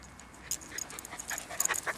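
A dog panting and snuffling close by, quick breathy bursts in an uneven rhythm over about two seconds, fairly faint, with no talking.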